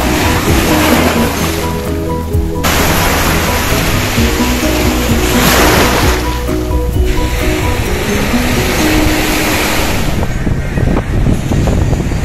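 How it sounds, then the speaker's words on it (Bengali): Fast, rough surf rolls in at Baina Beach in South Goa, where water sports are running. It makes a loud, continuous wash of breaking waves, with surges and deep rumble and no voices. "খুব প্রচন্ড ফাস্ট ঢেউগুলো আছে।"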